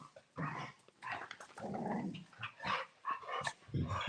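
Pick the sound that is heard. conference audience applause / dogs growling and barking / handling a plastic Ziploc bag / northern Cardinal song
dogs growling and barking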